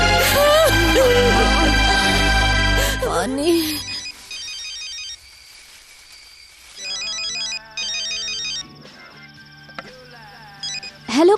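A telephone rings in a Hindi-dubbed South Indian action film, with repeated electronic ringtone bursts that stand out after a loud music-and-voice passage. Brief speech is heard.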